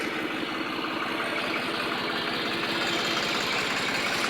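A New Holland 3630 tractor engine idles steadily, its close, even rumble holding constant throughout with no voices.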